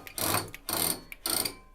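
A quilt is rolled onto the rails of a quilting frame in three bursts of rustling, ratcheting clicks, each about a third of a second long and separated by brief pauses, close and fairly quiet.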